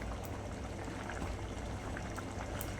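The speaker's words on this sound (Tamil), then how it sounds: "இங்கே பாருங்கள் நல்லா கொதி வந்துடுச்சு பாருங்கள்." Vegetable biryani comes to a rolling boil in a pot, giving off a soft, steady, continuous bubbling and fizzing with small pops throughout, fairly quiet and heard alone.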